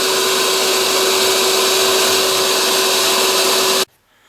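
A glass carving tool grinds into a single pane of glass on the first, deepest cut, a loud steady high-pitched whine with a constant tone that runs unbroken for nearly four seconds, then stops abruptly into near silence.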